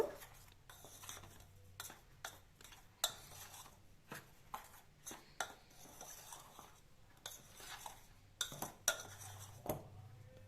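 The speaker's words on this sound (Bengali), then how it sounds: "এবার সমস্ত শুকনো উপকরণগুলো একসাথে মিক্স করে নেব।" A spoon scrapes and clinks against a bowl while dry semolina, salt and baking powder are mixed together, giving a quiet, irregular series of light taps and rubs with no voices.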